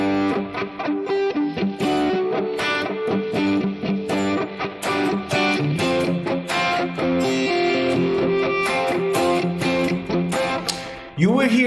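An electric guitar played through effects on the P90 neck pickup, giving a loud, sustained, distorted run of notes with no break, ending in a sharp pitch swoop.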